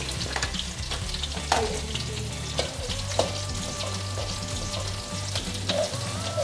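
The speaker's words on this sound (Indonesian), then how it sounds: "ternyata nyiprat-nyiprat betul ini apanya, minyaknya" Shallots and chilies fry in hot oil with a steady close sizzle, punctuated by several sharp pops and spatters of oil throughout, with no voices.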